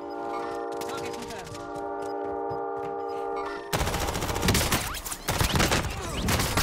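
Video game gunfire strikes the player from behind, rapid bursts of shots over a tonal hum that turn into a dense, loud crackle of automatic fire, with a player's voice talking over it.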